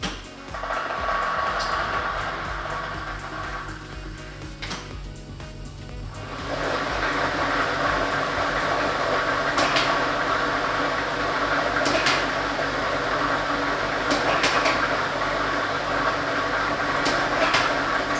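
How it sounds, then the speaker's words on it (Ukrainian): A lottery ball drawing machine (lototron B with ball set number 2) runs at a Loto Maksyma state lottery draw, giving a steady close mechanical whir and rattle that grows louder after a brief dip, with sharp clicks of balls. "Тиражна комісія до початку гри довільно обрала лототрон Б комплект кульок номер 2 І ми вмикаємо лототрон."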